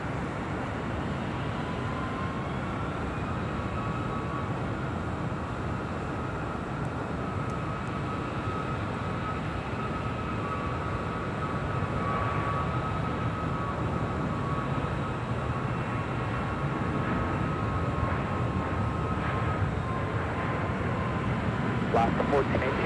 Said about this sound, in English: Next departure is Air Canada Flight 557 heading to Vancouver in a 737 MAX 8.